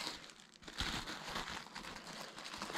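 Paper sewing pattern pieces for a cloak crinkle and rustle as they are handled and cut, a steady close papery crumpling with no talk.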